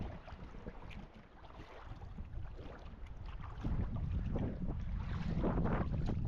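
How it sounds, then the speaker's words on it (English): Wind blowing hard across a cold, sandy beach at Torpesand in Värmdö, a loud, steady gusting rumble buffeting the microphone, strengthening toward the end, with no voices. "And we have blowing wind as well to make things a bit worse"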